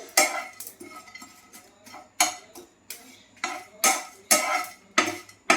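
Whole spices such as bay leaf, garam masala, coriander, cumin and fennel being stirred as they lightly fry in a pan, heard as a regular series of sharp scraping clinks of a spoon against metal, close and without talk.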